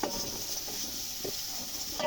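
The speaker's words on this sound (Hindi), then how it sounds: "आलू को अच्छी तरह से भूनेंगे हम" Half a kilo of potatoes being stir-fried in a pot for beef keema pulao, a steady close sizzle of oil with scraping stirs throughout and no talk.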